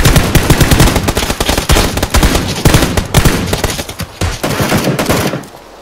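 Loud, dense gunfire in the video game PUBG, rapid automatic bursts that rattle almost without a break before cutting off near the end, with no talking.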